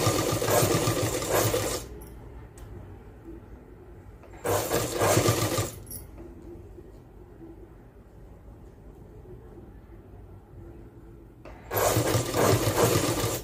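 Sewing machine stitching folded cloth for a school uniform, running in three loud bursts of rapid whirring separated by quiet pauses with faint background hum.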